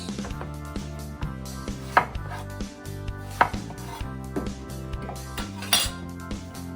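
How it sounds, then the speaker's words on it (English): Steady knife chopping on a board as eggplant is cut into finger-shaped pieces, with occasional sharper clinks of the blade and a faint musical tone running underneath, no talking. "So this is how you cut your eggplant, like that."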